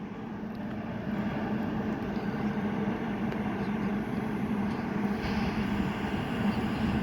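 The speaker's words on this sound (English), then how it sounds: "350, 374 and whatever's on the front is now departing to London Euston from Birmingham New Street" A Class 350 electric multiple unit departs Wolverton on the West Coast Main Line toward London Euston, a broad, steady rumble and whoosh of wheels and traction at moderate distance, continuous without voices.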